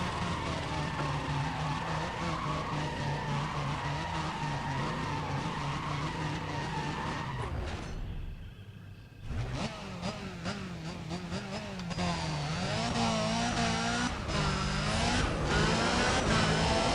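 A Chevelle Super Sport in Need for Speed races with loud, sustained tire skidding and squealing over a steady engine roar, broken by a brief drop in sound before the screeching and revving return at full volume.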